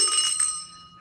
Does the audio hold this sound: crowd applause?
no